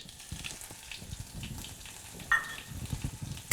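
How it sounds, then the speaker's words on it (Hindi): Finely chopped ginger and green chilli hit hot oil for a tempering and sizzle with soft crackles and stirring scrapes, a few sharper pops and clinks breaking through the quiet frying hiss. "1 इंच करीब अदरक का टुकड़ा उसको बारीक बारीक काट कर रख लिया है और इसको भी छौंक में डाल देंगे"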